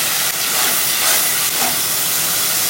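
Tomato paste hits hot oil with onions already fried red, giving a loud, steady, broadband hiss that holds for the whole moment with no voices.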